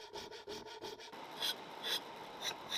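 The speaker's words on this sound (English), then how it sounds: "and an even quicker shaping of the handle's wedge." A wedge on a wooden hammer handle is shaped with quick rhythmic rasping strokes, close up, then shifts to slower, brighter scraping passes.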